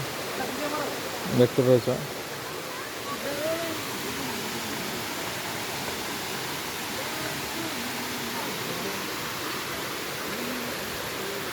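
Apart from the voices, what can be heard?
Mandasaru waterfall, water flowing down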